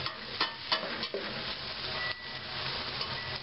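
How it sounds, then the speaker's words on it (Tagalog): A menudo mixture is stirred in a pan, the spoon making repeated scraping strokes over a soft, steady sizzle, close and fairly quiet with no talking. "Haluin para mamix."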